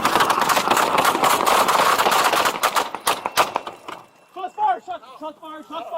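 A rapid burst of gunshots rings out during a police traffic stop, many sharp cracks in quick succession, then stops as someone shouts commands.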